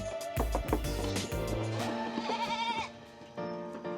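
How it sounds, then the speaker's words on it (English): Baby goats bleat repeatedly at close range, overlapping wavering cries with a bright, nasal quality, loud and clear with little other sound around them. "I don't got no food for you, goats. Yeah, these are the baby goats."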